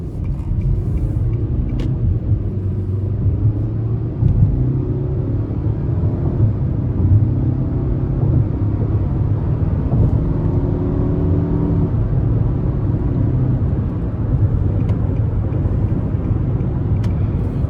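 A 2025 Nissan Altima S with an Xtronic CVT pulls under moderate throttle, heard from inside the cabin as a steady low engine drone and rumble that gradually rises in pitch without gear shifts.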